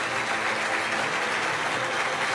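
Loud, sustained applause from a crowd at a Costa Rican presidential press conference marking the start of a major congestion-relief construction project, a dense continuous roar of clapping with no pauses.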